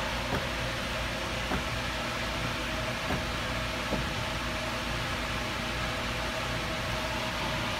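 A fan runs in a garage workshop beside a Bridgeport J2 mill fitted with a ClearPath servo, making a steady broadband whoosh of moving air with a few faint clicks over it.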